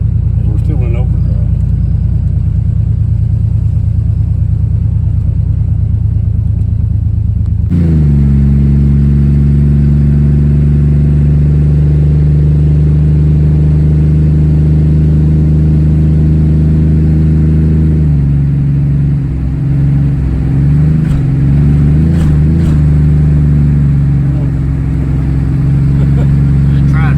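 A 1985 Chevy S10 Blazer with a 700R4 automatic transmission that will not find fourth gear drones loudly and steadily on a test drive, heard from inside. The engine note shifts abruptly a few times as the gears change.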